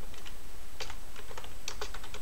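Typing on a computer keyboard during a Void Linux MATE desktop setup, with scattered clusters of crisp key clicks at close range and steady, even loudness, alone and without any talk.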